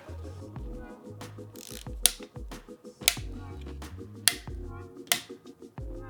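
A torque wrench tightens handlebar cradle bolts on a bikepacking bike, making a few sharp clicks, close and distinct, over a background of faint music and handling sounds.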